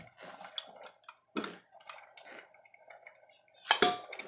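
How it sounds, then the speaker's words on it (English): A canned hot dog tin being opened gives a sharp metallic pop near the end, preceded by scattered clinks and scraping of metal utensils and the can. "You're going to hear the pop, and they're going to puff up a little bit."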